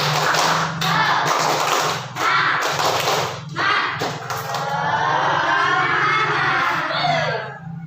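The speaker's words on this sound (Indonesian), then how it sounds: "kita tepuk semangat dulu agar kita tidak ngantuk dan lebih semangat lagi. Tepuk semangat." Schoolchildren in a classroom perform a rhythmic spirit clap, with bursts of clapping and thumps interrupted by short pauses, followed by children's shouting and cheering voices near the end.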